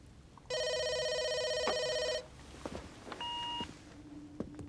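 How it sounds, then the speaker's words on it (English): A telephone rings with an incoming call in a tense spy-drama setting, one long electronic ringing burst followed by a shorter tone, fairly loud over a quiet room with faint background clatter and no talk. "there's an incoming phone call from Washington, D.C."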